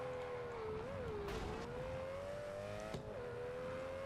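An Aston Martin DBS Superleggera engine hums steadily in a Test Drive Unlimited driving game, a sustained mid-pitched drone that dips and climbs slightly with throttle shifts, plus a couple of short sharp clicks or gear changes.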